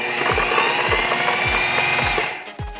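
A blender mixes creamed cream cheese and vanilla for a keto burnt Basque cheesecake, its motor whirring steadily and loudly for over two seconds, then cutting off abruptly.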